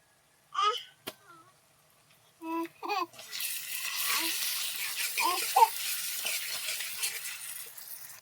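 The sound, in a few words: onion paste added to a hot pan, sizzling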